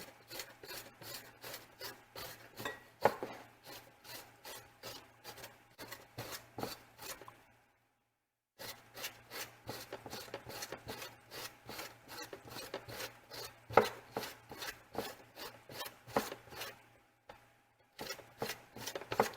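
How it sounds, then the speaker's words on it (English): Vegetables for kraut are rubbed down a hand grater in quick, rhythmic rasping strokes, close and steady, with two short pauses between runs. "We're just going to take our grater here. We're just going to grate this into it."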